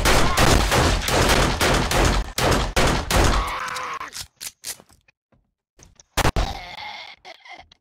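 Rapid volley of gunshots in the survival video game 7 Days to Die, a loud rhythmic string of close shots for several seconds, then scattered single shots and mechanical clicks separated by pauses.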